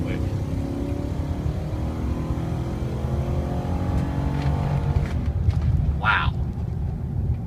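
A 2005 Nissan Titan LE pickup truck accelerates hard, its engine rising in a loud, steady climbing roar heard from inside the cab, with a voice talking over it near the end.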